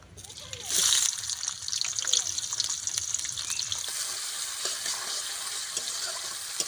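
Chopped onion hits hot mustard oil with a bay leaf in a wok, breaking into a loud, steady sizzle that begins about a second in and hisses on throughout, with faint kitchen clatter underneath.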